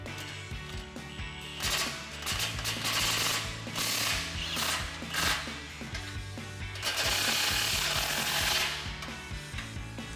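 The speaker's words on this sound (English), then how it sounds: "Now we'll snug up our 2 tailpipe clamps above the axle." A ratchet is tightening the two tailpipe clamps of a Borla ATAK true dual exhaust above the axle of a 2022–2024 Toyota Tundra. It gives close bursts of rapid clicking with pauses between strokes, and no one speaks.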